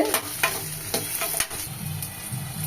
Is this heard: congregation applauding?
no